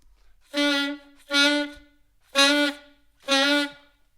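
Four separate saxophone notes on the same pitch, tongued with a moving jaw, each slightly swelling and wavering as it starts, with short silences between them.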